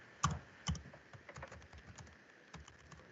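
Quiet, close keyboard typing: a few sharper key strikes followed by a light scatter of softer clicks, faint and alone in a still room.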